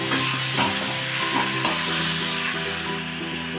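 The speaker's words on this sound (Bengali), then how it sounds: "দিয়ে ভালো করে নাড়িয়ে আমি ঢেকে দেবো কষানোর জন্য।" Spicy meat and potatoes fry and get stirred in a pan, a close, steady sizzle with a few scraping stirs over a low, humming background.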